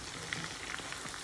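Chicken fries in a covered pan with a soft, steady sizzle and faint crackling pops, quiet and close, no talking.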